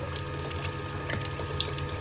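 Water flowing through the Gold Box gold extractor, a steady close splashing rush with a low pump-like hum underneath, brief and continuous with no talk.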